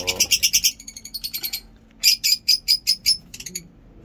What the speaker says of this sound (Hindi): बहुत खूबसूरत आवाज़ है हमारे परिंदों की